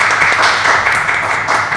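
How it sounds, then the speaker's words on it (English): An audience at a workmanship forum applauds, a dense, loud wash of many hands clapping at once, steady throughout with no voices over it. "one more thank you and round of applause for both of you for that"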